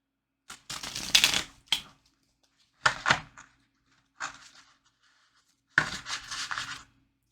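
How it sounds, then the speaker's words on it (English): Tarot cards riffle and clatter in several quick bursts separated by short pauses, close and fairly quiet. "let's shuffle this deck first."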